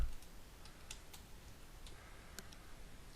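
Soft, faint keystrokes tap out a surname on a computer keyboard, a light, uneven run of clicks over a quiet room hiss.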